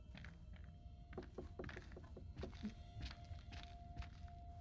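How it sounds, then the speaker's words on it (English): Footsteps in the horror video game Little Hope, a string of soft irregular thuds and knocks, faint and close, with several steps overlapping alone in a quiet scene. "I hear more than one footstep."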